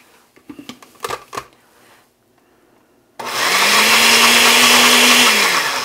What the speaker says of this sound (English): It'll make it just fine in a blender.